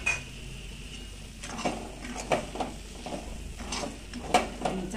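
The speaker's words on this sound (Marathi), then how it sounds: "चांगलं हलवून घ्यायचं" A spoon stirs a sweet prasad mixture of ghee, raisins and cardamom in a metal pan, producing irregular scrapes and clinks over a faint sizzle, close and moderately loud, with no speech.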